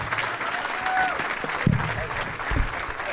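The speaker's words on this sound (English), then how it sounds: "Let's give these guys a round of applause." Applause from an audience at a chamber of commerce legislative kickoff event, steady clapping from a moderate crowd with a few thumps and faint voices mixed in over about three seconds.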